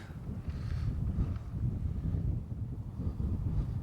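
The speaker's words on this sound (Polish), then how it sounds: "Jest mała wichura teraz, ale to nic." Gusty wind buffets the microphone on a beach in Cornwall with a low, rumbling roar that rises and falls continuously, loud and close.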